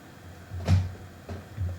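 A door opening in the Entry Point video game, a short muffled thump with a brief low rumble, followed by two softer knocks, alone with no talk.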